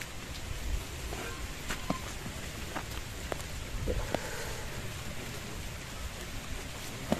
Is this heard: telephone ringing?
no